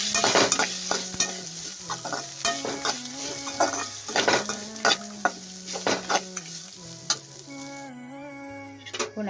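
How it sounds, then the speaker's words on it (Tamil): Grated coconut sautéing in a pan for crab gravy, a loud sizzle with repeated scraping and clinking stirring strokes in an uneven rhythm, and a faint tonal hum underneath. "தேங்காய் சேர்த்து நல்லா வதக்கிக்கலாம்"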